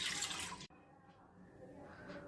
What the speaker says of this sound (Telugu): 1 గ్లాసు వాటర్ వేసుకోవాలి